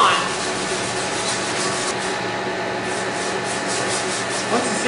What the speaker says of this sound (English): Once the sanding has been completed